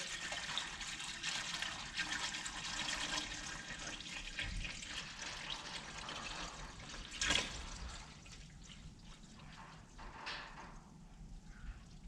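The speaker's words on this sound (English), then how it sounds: "And then you just pour your stabilizing resin in there, so you're completely covering your wood." Stabilizing resin being poured into a container to cover pinecone wood for a duck call, a faint, continuous liquid trickle with a brief soft clunk midway and no talking.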